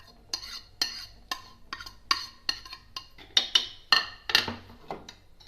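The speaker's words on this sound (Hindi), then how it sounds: "अब इन सब चीज़ों को ना इसमें मिला लेना। ये प्याज, ये हरी मिर्च, ये चिकन सारा" Chicken, onion and green chilli kabab mixture being mixed with a spoon in a bowl, giving a run of sharp, close clinks and scrapes at an uneven rhythm with no talking.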